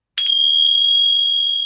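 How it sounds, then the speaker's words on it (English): A small Bhutanese bell is struck once, giving a sharp clear ding that rings on with a long, steady, bright sustain, loud and close with no talk. "So I have my own little Bhutanese bells."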